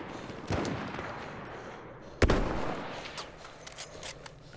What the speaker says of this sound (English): Oh my god, I'm getting shot again.